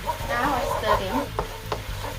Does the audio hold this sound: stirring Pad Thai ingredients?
yes